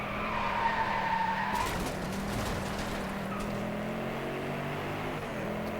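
Tires squeal as a car skids in the racing video game Driveclub, a loud sliding screech that fades after about a second and a half. Engine drone and rumbling continue underneath.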